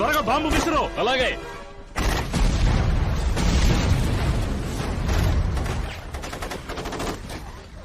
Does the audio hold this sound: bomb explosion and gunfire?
yes